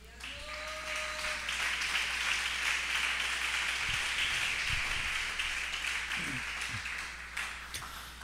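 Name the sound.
congregation applauding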